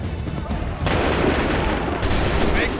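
Musket volley fire in Assassin's Creed III: a dense crackling burst of massed gunfire begins partway in, followed by a second volley, with battlefield din and shouted orders underneath.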